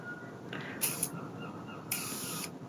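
An aerosol bottle of long-lasting makeup fixing spray releases two bursts of fine mist, a short hiss and then a longer one, close and quiet, with a faint click of the nozzle before the first.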